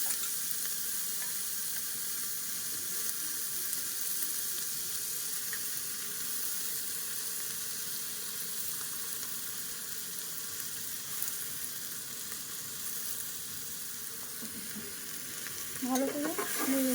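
Lentils, long beans and chickpeas fry in a pan with a continuous close sizzle and occasional stirring scrapes, plus a short clatter right at the end.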